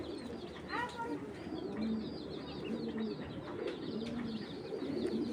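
Soft, low racing pigeon coos repeat every second or so against a quiet background with faint chirps.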